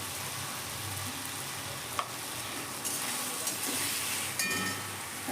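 Raw papaya curry being stirred in a pan after the lid comes off, a continuous close sizzle with occasional utensil scrapes and clinks, no voices.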